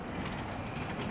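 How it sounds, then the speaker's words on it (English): A San Francisco Muni light rail train rumbles past on Market Street, a steady broad roar with faint clatter of wheels. "that yellow train right there, we call that the Muni train"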